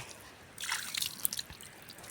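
Water splashes and drips close by for about a second and a half after a quiet start while seeds are soaked by hand, then trails off into a few faint drops.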